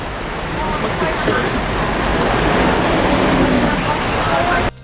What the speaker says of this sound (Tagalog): Umuulan siya ng malakas.